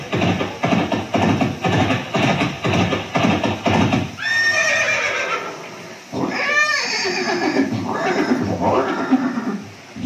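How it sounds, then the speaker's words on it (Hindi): At a Haldighati exhibit scene showing Maharana Pratap and his horse Chetak, loud rhythmic hoofbeats pound for several seconds, then a long, shrill horse neigh rings out, followed by a second whinny. "ये दृश्य महाराणा प्रताप और सुविख्यात स्वामी भक्त घोड़े चेतक के अंतिम मिलन का है"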